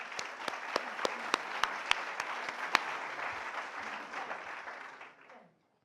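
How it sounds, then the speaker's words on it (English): Audience applause fills a symposium hall at the 2016 AIASF Equity by Design event: dense, steady clapping with a few sharp, close claps standing out, fading away over the last second. "round of applause for everybody"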